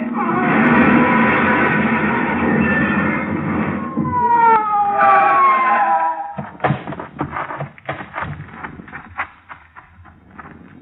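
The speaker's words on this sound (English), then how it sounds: "Whoever it was paid no attention to our siren" Siren in an old-time radio drama car chase, a wailing rising and falling tone over engine roar for several seconds, followed by thuds and clattering bumps as the pursuit ends.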